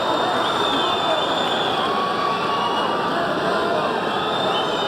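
A Bellator MMA arena crowd in Salt Lake City, Utah, sends up a steady, dense roar of cheering that fills the whole stretch at even loudness, with commentary voices faintly underneath.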